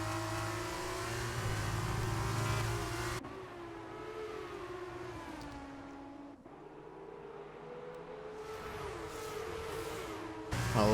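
Race cars cornering in a racing video game on the Austria circuit, engines droning loudly and shifting pitch as they brake and accelerate, with a sharp cut to another car partway through and a louder engine surge at the end.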